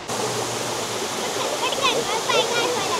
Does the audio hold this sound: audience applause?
no